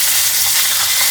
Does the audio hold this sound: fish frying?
yes